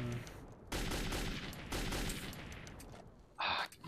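Gunfire in Metro 2033, with sharp bursts of shots coming in quick clusters, loud and close, separated by brief gaps and ending with one more short burst.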